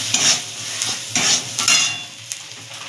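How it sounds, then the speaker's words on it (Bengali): Onion with a little turmeric frying in a pan, with a close continuous sizzle and several rhythmic scraping stirs of a utensil against the metal. "এবার এটাকে একটু ভাজা ভাজা করে নেব।"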